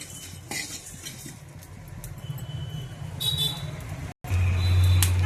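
Cumin and coriander seeds are dry-roasted in a pan for garam masala powder. Spatula scrapes and light rattles sound over a low background rumble, and the sound cuts out briefly near the end.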